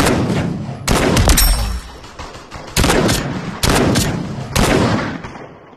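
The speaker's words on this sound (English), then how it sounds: "they're shooting at you" Bursts of automatic gunfire in an online shooter video game, several loud rapid volleys separated by short pauses, with no talking over them.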